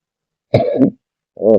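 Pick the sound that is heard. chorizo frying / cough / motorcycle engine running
cough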